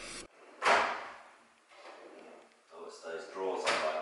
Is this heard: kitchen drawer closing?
yes